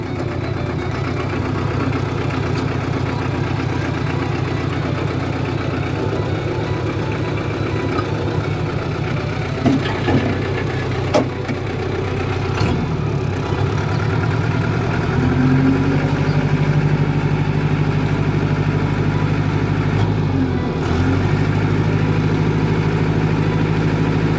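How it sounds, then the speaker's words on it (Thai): A diesel tractor engine idles steadily with a low, knocking chug, close by and continuous, with a few brief clanks partway through. "เองก็ไม่อยากดับเครื่องรถไถได้พี่น้อง"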